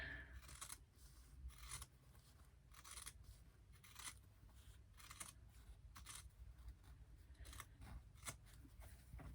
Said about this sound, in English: Then we come in with our scissors and cut along that center line